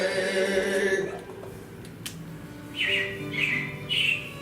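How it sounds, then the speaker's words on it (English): Recorded robin chirps play inside the Carousel of Progress attraction: a tonal sound fades out, then three bright, evenly spaced chirping bursts follow, fairly close and clear. "it looks like the Robins are getting ready to celebrate Valentine's Day today"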